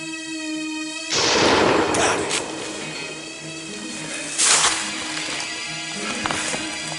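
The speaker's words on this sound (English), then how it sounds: "I readied my gun and prepared for the shot." A turkey hunter fires a single loud shotgun blast loaded with Longbeard XR shells, a close sharp boom that rolls into a long echoing decay over steady outdoor ambience, followed by a second fainter burst of noise.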